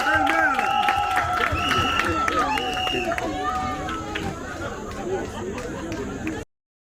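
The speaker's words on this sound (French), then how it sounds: "Est-ce qu'on peut applaudir pour nos mamans?" Wedding guests at a customary marriage ceremony applaud the mothers, a steady crowd clapping mixed with cheering and chatter, with voices over it, before cutting off abruptly.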